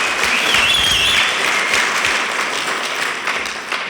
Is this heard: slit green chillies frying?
no